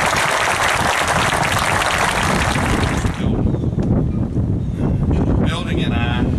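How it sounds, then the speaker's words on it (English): Applause from a crowd at a federal courthouse rededication ceremony in New Bern, a dense steady clapping that fades after about three seconds into lighter scattered claps and room noise. "Let's give Louise Flanagan a round of applause."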